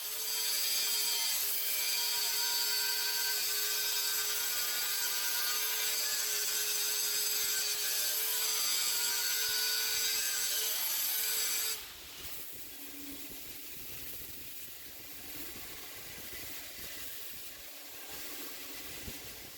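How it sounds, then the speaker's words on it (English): Angle grinder with a hard disc grinding scale off a forged steel billet made from ball bearings and washers, a loud steady whine with hard rasping that stops abruptly partway through, leaving quieter scraping and shop noise. "Next up, I'm gonna grind it off with the hard disk, get all this nasty scale off, and grind it flat"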